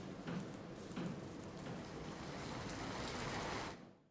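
Heavy rain pours down in Surat as a dense, continuous hiss, loud and steady throughout and fading out at the very end.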